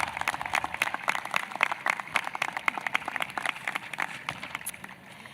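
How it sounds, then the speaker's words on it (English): A graduation crowd at Woonsocket High School's 2022 ceremony applauds the graduates with a steady scatter of sharp claps that thins toward the end. The sound is moderately distant and carries no speech. "Give yourselves a round of applause."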